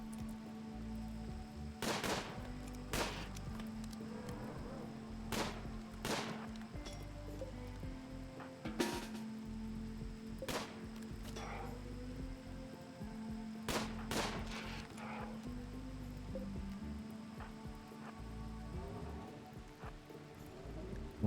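Gunfire in the colony-building game Rimworld: a long, sparse run of sharp single shots spaced irregularly over about twenty seconds, over a steady low hum and faint background tones, no talking.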